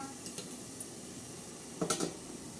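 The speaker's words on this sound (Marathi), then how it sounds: "आता त्याच्यावर झाकण ठेवणार आहोत आता हे झाकण ठेवणार आहे" A lid is set on a cooking pot of lemon and chili pickle simmering with turmeric and salt, giving a brief metallic clatter near the end over a faint background sizzle.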